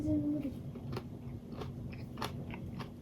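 Close chewing and biting of a Japanese pickled plum and burdock dish (ume gobo) seasoned with soy sauce, soft irregular crunchy bites repeating over low room noise.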